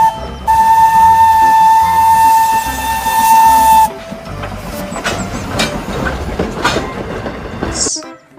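A Thomas toy steam locomotive whistle sounds a steady high tone for a few seconds, then gives way to clattering and chugging with hissing bursts.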